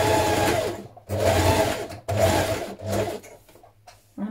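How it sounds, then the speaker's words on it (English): A sewing machine back tacks and then stitches around the pockets of a knit sweater, running in three steady close bursts separated by brief pauses, followed by quieter slower stitching at the end. "Now we're going to back tack here and sew all the way around our pockets."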